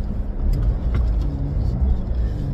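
A 2013 Geely MK car on a test drive gives a steady low engine and road rumble from inside the cabin, with a few faint higher clicks over the drone.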